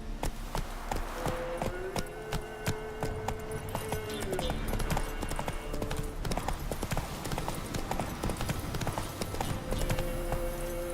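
Hoofbeats ring out as Roach, the horse in the video game The Witcher 3, gallops in a fast, even rhythm that runs throughout, close and clear over a background of game music.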